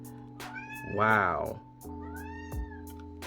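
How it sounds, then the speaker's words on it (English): A cat indoors gives one close, drawn-out meow in the middle, with a person's brief exclamation just before it and a low steady hum underneath. "My cat is not happy being in this room right now."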